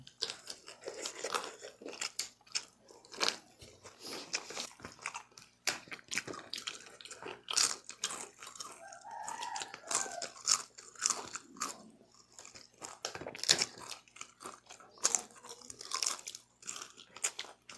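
Crisp papad crunches loudly between the teeth alongside a pakhala meal, with repeated close bites and chewing in irregular bursts, occasional crinkling and wet mouth sounds, and no talking.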